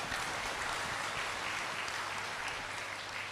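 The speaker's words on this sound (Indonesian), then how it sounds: "Tepuk tangan untuk dirimu sendiri." An audience at a Buddhist teaching session clapping for themselves, a steady, even patter of many hands at moderate distance with a faint low hum beneath.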